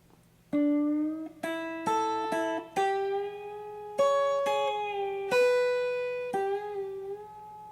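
Solo guitar playing a second-verse phrase from a song, a lively run of about a dozen plucked notes with slides and quick pairs, each ringing cleanly and close.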